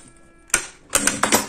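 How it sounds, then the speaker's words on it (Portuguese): A domestic sewing machine stitches fabric for a beginner's card wallet in short, sharp mechanical bursts with clicking needle strikes. The bursts are close and separated by brief pauses. "Eu gosto de ajudar no volante da minha máquina, tá?"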